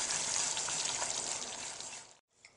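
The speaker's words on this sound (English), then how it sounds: "now we are pouring this on top of the gelatin mixture" A super hot liquid mixture is poured onto a gelatin mixture, giving a steady, close hissing splash of liquid that runs for about two seconds and then cuts off abruptly.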